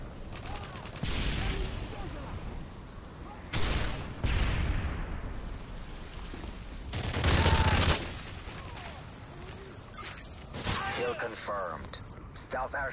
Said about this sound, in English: Confirmed. Stealth airstrike raid.